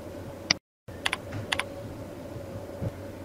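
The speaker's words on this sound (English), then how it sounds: "Type in the batch number and the expiry date as required." Several quick keystrokes tapped on a computer keyboard while entering a vaccine batch number and expiry date, isolated clicks in small pairs over a faint steady background hum.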